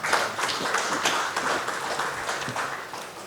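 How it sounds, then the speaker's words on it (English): Audience applause at a shipping and logistics conference, a dense, continuous round of clapping that stays steady and fairly loud throughout, with no talking over it. "A round of applause, please, everybody."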